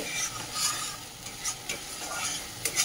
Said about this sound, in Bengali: মশলাটাকে একটু নাড়াচাড়া করে নেব।